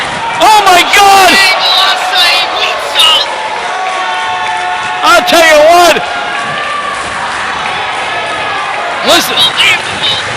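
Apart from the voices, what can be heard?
wrestling crowd cheering and applauding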